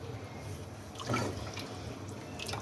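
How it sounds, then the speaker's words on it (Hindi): Mutton yakhni broth is poured into a cooking pot, producing a short liquid gush and splash that swells briefly and then settles into a softer trickle. "साथ ही इसके अंदर जो यखनी है वो डाल दें"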